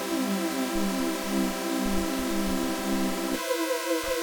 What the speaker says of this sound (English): just a saw wave, and then it's just super unison out.